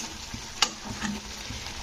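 Tomato masala with salt sautéed in oil in a pan for an elephant-foot yam and potato curry, a soft continuous sizzle with a single sharp clink of the spoon, brief and close.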